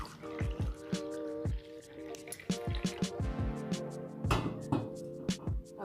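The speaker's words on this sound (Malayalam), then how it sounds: "2 കപ്പ് വെള്ളം ഒഴിച്ചു, 1 കപ്പ് പാല് കൂടെ ഒഴിച്ചു കൊടുത്തിട്ടുണ്ട്" Water and then milk are poured into a pan for rava kesari. Splashing, dripping pours come in short bursts under background music.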